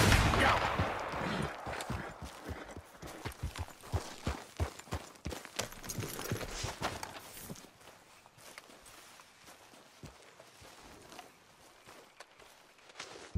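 Scattered gunshots ring out in a Red Dead Redemption 2 rabbit hunt, mixed with game footsteps and movement; the sharp reports are loudest early and thin out over time into quieter ambience.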